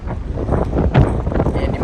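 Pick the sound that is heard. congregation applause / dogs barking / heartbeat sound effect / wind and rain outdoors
wind and rain outdoors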